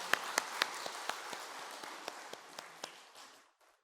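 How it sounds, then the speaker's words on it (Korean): A church congregation applauds a newly registered family at a Sunday service, a scattered burst of clapping with a few sharp individual claps standing out, then thinning and fading out after about three seconds. "다시 한번 인사하실 때 크게 박수 주시기 바랍니다"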